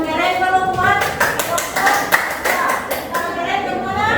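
Hands clapping in a classroom group activity at the close of a group presentation, a steady patter of claps under overlapping voices and chatter throughout.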